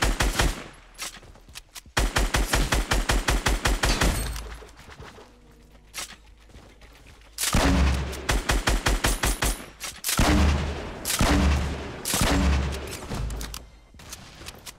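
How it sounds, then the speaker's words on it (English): Gunfire cracks out in Fortnite Battle Royale, with loud rapid bursts of shots in several volleys broken by short pauses. "Somebody shot a shotgun."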